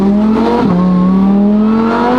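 A supercharged Lamborghini Huracán STO with a V10 revs loudly up close, its engine climbing in pitch, dropping sharply on a quick gear change, then pulling hard again.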